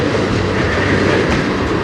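A CN freight train on the Strathroy Subdivision rolls past at night, loud and close, with a continuous roar of wheels and rail cars and a faint rhythmic clack.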